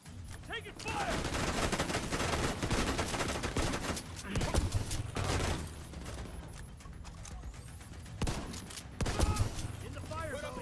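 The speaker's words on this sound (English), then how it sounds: "Taking fire." Sustained gunfire bursts and heavy automatic fire in a Division 2 firefight, loud and continuous with occasional louder booming shots, while players talk over the combat.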